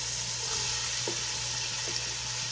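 Chopped onion cubes sizzle in hot oil in a pot, a constant close frying hiss with a couple of faint stirring clicks and no talking.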